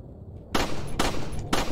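Gunshots in a Resident Evil 4 Remake fan game: three loud, close, sharp bangs in an even rhythm about half a second apart, with no talk.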